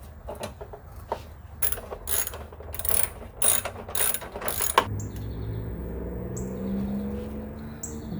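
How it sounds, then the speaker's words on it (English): A ratcheting 10mm wrench turning a bolt during a SAAB turbo replacement, clicking in quick bursts of rapid pawl ticks for about five seconds, close and crisp, before a softer low mechanical rumble takes over. "this ratcheting maneuverable 10mm wrench is the real MVP of this install"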